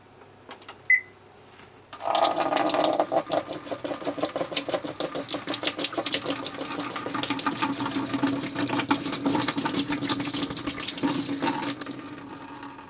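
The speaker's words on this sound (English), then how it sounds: "first turn on your washing machine and then pour all of it inside" Washing machine running with tub cleaner being poured in, a steady rushing water-and-motor sound that starts abruptly after a near-silent opening and continues evenly and fairly loud, with no talking.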